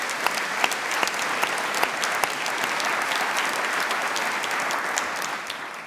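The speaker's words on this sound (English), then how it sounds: "So let's give them our round of applause too." Audience applause at a keynote event, a crowd clapping loudly and steadily with sharp individual claps popping out, sustained for about six seconds.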